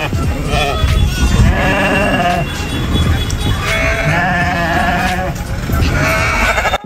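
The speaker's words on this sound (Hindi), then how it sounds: "ये बकरी है" Goats bleat close by at a village livestock spot, with several overlapping loud calls over a busy crowd murmur. People talk nearby throughout.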